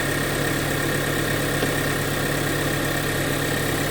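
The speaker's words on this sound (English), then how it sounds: "Obviously the engine's running" A 2025 Toyota 4Runner Trailhunter engine idles steadily and loudly throughout, a constant hum with a low mechanical drone and no voices.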